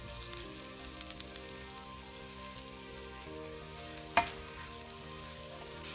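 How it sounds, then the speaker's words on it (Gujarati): Onion, ginger, garlic and tomato sautéing for a curry gravy give a quiet, steady sizzle with a soft clink partway through, and nobody speaks. "આ બધી વસ્તુને આપણે 3 થી 4 મિનિટ કરી નાખશું સોતે"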